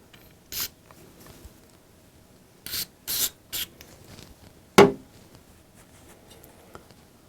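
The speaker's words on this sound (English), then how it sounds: "So we'll go ahead and clean this one." Short scrubbing and rubbing bursts come from cleaning a dirty license plate bulb socket on a Cadillac CTS, with several brief close scrapes, then one sharper louder rub, all between quiet pauses and with no talking.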